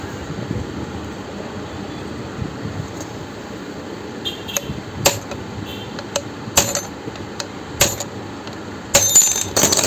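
Metal hammer taps on a sewing machine part while adjusting the hook timing, a series of sharp, short knocks spread irregularly over a quiet room background, growing a little denser toward the end.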